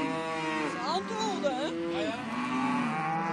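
Cattle on an organic livestock farm moo in several drawn-out, wavering calls that overlap one another, loud and near with a faint outdoor background.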